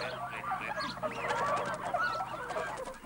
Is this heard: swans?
yes